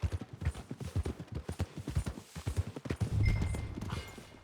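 Horse hooves in Red Dead Redemption 2, a steady rhythmic clip-clop of a horse walking close by, ending with a brief rumbling scuff.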